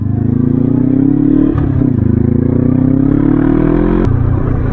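A Bristol Venturi 500 motorcycle engine drones loud and close at high revs, holding a steady rasping tone with a brief dip and a sharp click near the end.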